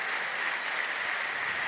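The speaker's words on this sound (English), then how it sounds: "I'm giving season 2 a round of applause" Applause sound effect: a dense, steady burst of many hands clapping, even and continuous throughout with no voices.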